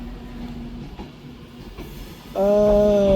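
A Class 390 Pendolino train rumbles through Manchester Piccadilly at low level, then a loud, sustained tonal whine rises sharply near the end.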